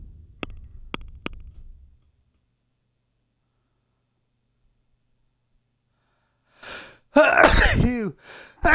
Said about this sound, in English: Sneezes, man.